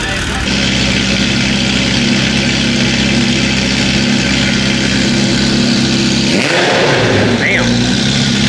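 A straight-piped Ferrari 348 with a full titanium exhaust idles loud and raspy on a Miami street, then blips its revs in a quick rising and falling burst near the end.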